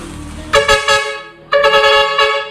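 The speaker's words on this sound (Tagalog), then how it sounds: "Air horn." A Bosch vehicle air horn blasts twice, loud and near: a short honk, a pause, then a longer blare.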